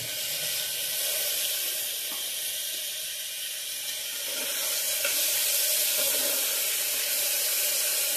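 Onion, four green chillies and a tomato fry in a spoonful of oil in a pan, giving a steady, close hissing sizzle with faint crackles that holds throughout, with no voices.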